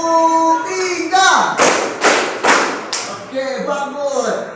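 A group of people standing together clap out a three-beat pattern, three sharp, loud, close claps in quick succession, with someone speaking before and after the claps.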